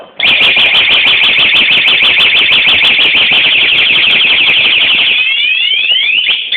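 A car security alarm blares loudly in a test, a rapid pulsing electronic siren that holds steady for about five seconds, then shifts to a few quicker warbling sweeps before cutting off.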